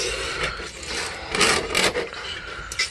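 Spray paint is scraped off a garage surface by hand, giving rough, gritty rasping strokes in irregular bursts, fairly close and loud.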